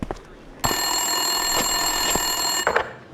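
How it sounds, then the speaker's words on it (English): A telephone rings in the video game Max Payne 2, a loud continuous electronic trill that starts abruptly, holds steady for about two seconds and cuts off, with faint clicks around it. "Winterson's phone was ringing."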